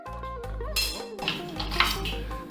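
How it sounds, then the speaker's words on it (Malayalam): A knife prying the kernel out of a split dried mango seed, with close metallic scraping and light clinks in short, uneven strokes. "ഒരു കത്തി കൊണ്ട് ഇങ്ങനെ ഇളക്കിയെടുക്കാം നമുക്കത്."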